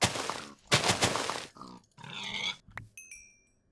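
A video-game pig gives a few short, choppy grunts in quick succession, fairly close, followed by a brief bright chiming tone as the sounds fade out.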